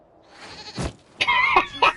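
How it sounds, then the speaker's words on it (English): A goat in the fantasy game Dragon Age Inquisition gives a couple of short, nasal bleats, fairly close and clear, with a faint thud or rustle just before them. "we discover this man attacking the building with a"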